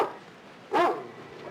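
A dog in a film scene gives a single sharp bark, close and fairly loud, after a short quiet stretch with faint room tone.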